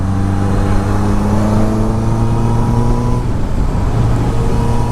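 A Honda CBR 650R motorcycle with an aftermarket exhaust, heard as a steady, loud engine drone with sustained low tones and slight shifts in pitch, close by and with no talk.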